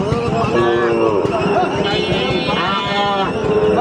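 Sahiwal bull calves low and bleat close by at a busy cattle market, several overlapping calls over a loud crowd murmur with people talking throughout.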